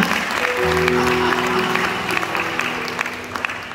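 Church congregation applauding in worship, a steady broadband wash of clapping filling the room for several seconds while sustained tones from instruments or singing carry underneath.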